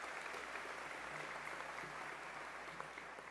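Applause from the audience at a 2015 SUNY Polytechnic Institute commencement ceremony, a steady wash of clapping that sounds faint and distant.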